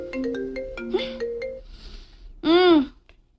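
A mobile phone plays a melodic ringtone for an incoming call, a quick run of bright synthetic notes, then a short pause and a final louder sweeping tone, close and clear with faint voices around it.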